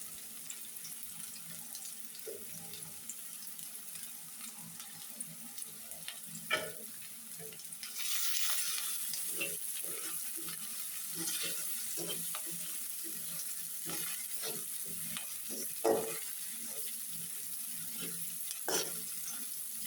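Shredded cabbage frying in a pan with turmeric, a continuous sizzle with scattered scrapes and clacks of stirring close by, no voices.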